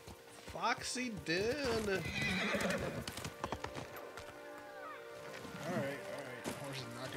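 Horse in the Ghost of Tsushima video game, with hooves clip-clopping and a loud whinny amid game sounds and splashing, while a person talks over it.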